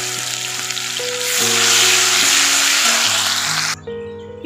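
Chopped onions hit hot oil in a pan for a jackfruit and prawn curry, and a loud, steady sizzle and crackle follows. Background music plays underneath, and the frying fades slightly near the end.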